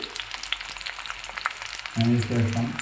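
Finely chopped garlic dropped into hot oil for a Kerala-style pork fry, a steady crackling fry that swells louder and fuller partway through as the garlic hits the pan, with no talking.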